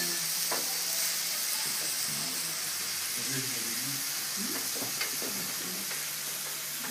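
Steady broadband sizzling of galbi meat frying in a pan at a Korean restaurant, with faint clinks and soft voices murmuring in the background.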